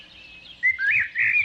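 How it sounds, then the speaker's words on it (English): Bird calling in clear, bright chirps, a short rising tweet followed by two longer whistled calls, close and distinct over faint background hiss. "It's a bird."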